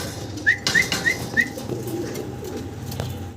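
Fancy pigeons call from close by, with four short, evenly spaced calls early on followed by quieter rustling movement.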